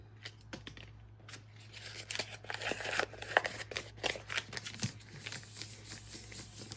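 Paper ephemera is crumpled by hand, giving a busy run of crackling, crinkling bursts that build and fade over several seconds, close and fairly quiet, with no talking.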